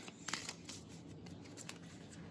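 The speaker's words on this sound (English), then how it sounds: "Wait, I'm going to shuffle these a little bit more" Tarot cards being shuffled by hand at close range, a soft papery riffling and sliding with a few sharper flicks near the start, quiet and steady throughout with no talking.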